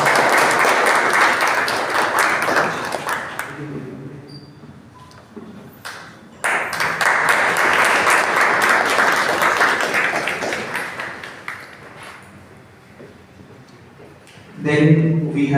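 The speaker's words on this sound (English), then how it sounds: "Very warm round of applause." An audience at a printing-process lecture claps warmly in two sustained bursts separated by a quieter lull, with a voice emerging briefly near the end.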